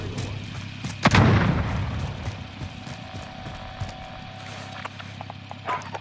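Gunfire in the shooter Call of Duty Warzone: one heavy close blast followed by a rumbling tail, then scattered fainter shots and clicks over a steady game background.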